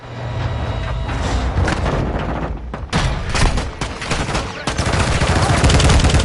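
Gunfire rings out in the video game Call of Duty MW2, dense loud bursts of automatic shots and heavy thuds in a continuous battle mix, with faint voices mixed underneath.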